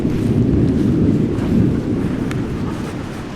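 A thunderstorm rolls on with loud, sustained low thunder rumbling under gusting wind that buffets the microphone, with no voices heard.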